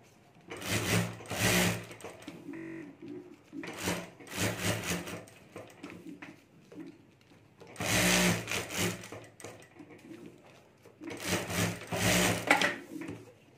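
A sewing machine stitches plastic-laminated fabric with a rubber sheet for a mobile phone cover, its oiled mechanism running in four close, loud bursts of rapid stitching separated by short pauses.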